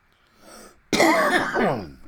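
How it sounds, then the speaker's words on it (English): A single harsh, loud cough bursts out close by after a quiet moment, followed by a rough, rattly throat sound that trails off. "I'm still going to be coughing."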